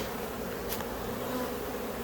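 Honeybees at a hive colony, a dense steady buzz from many insects close by, continuous and even with no talking.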